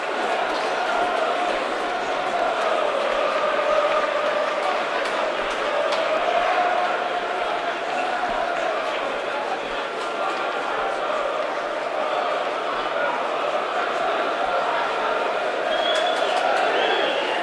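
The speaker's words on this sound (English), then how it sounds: "the crowd are in good voice for both sides here in what is a crucial game" Football crowd at a night match at Grimsby Town's stadium, a continuous loud roar of singing and chanting from both sets of fans, steady throughout with no breaks.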